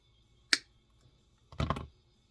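Wire snipped during a guitar pickup swap: a single sharp click of the cutters, then after a pause a slightly longer, rougher snap, both close and distinct against near silence.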